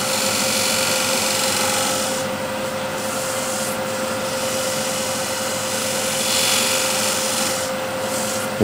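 Shear scraper cutting into the inside corner of a wooden bowl on a lathe, a continuous close raspy scraping with a steady motor hum beneath and slight swells in intensity.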